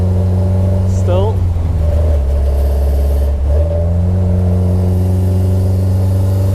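A car with a BMW M42B21 engine, driven on a track after an oil pump repair, gives a loud, steady engine drone that briefly shifts in pitch and then settles, with speech partly over it.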